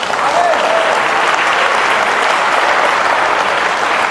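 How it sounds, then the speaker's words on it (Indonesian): Dense, steady applause from a church congregation during a sermon, loud and close, filling the whole stretch without a pause and with no voice over it. "Mana tepuk tangannya?"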